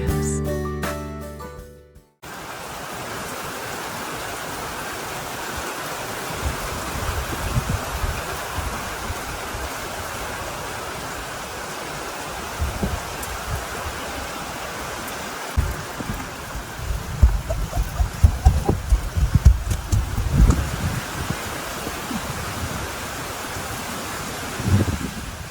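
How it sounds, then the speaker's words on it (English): Steady rain falls across a small country farm in summer, a dense continuous hiss with heavier patches and occasional nearby drips and thumps, after a brief opening sound. "This has been our summer, one rainstorm after another."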